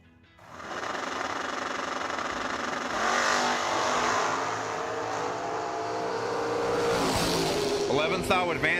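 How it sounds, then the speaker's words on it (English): A hot rod drag car starts its run at the racetrack, engine noise rising sharply and then roaring as it accelerates, with an announcer's voice running over it. "it's still fun to drive your hot rod on the racetrack"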